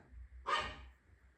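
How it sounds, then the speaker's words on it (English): A dog lets out a single short bark indoors, fairly close and moderately loud, during a quiet tabletop board game session, with low room hum before and after. "Sorry about the barking"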